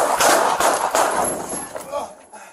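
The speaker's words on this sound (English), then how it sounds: "shots fired." San Bernardino police officers fire at a man armed with a knife: a few sharp, loud shots crack in quick succession in the first second and a half, mixed with urgent shouting voices.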